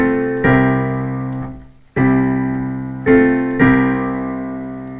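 Piano chords from a song ring out loud and close. Four sustained chords are struck, each decaying slowly, with a brief gap of near silence between the first and second.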